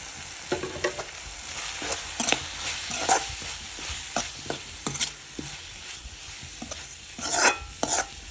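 Spoon scrapes and stirs garam masala and chili powder frying in a pan for crab gravy, irregular close clanks over a soft steady sizzle.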